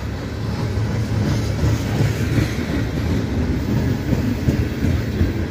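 A CSX freight train of tank cars rolls past at night, a steady, loud rumble with continuous wheel-and-rail clatter throughout, close by and unbroken.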